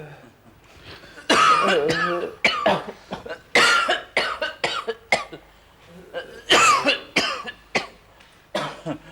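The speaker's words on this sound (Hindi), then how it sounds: "बहुत खांसी चल रही है?" A patient coughing repeatedly in a doctor's clinic scene from a crime drama, harsh hacking bursts in irregular clusters, close and loud, mixed with some throat clearing and brief talk.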